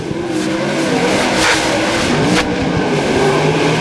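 A race car at the ClydeWood Memorial race sets into a turn on the track, engine roaring and tires scrubbing loud and close, with a crowd and background noise blending underneath.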